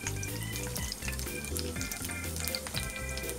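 Curry leaves and green chilies frying in hot oil for a Marathi dry prawn dish make a steady close sizzle and crackle, with music playing alongside and no voices.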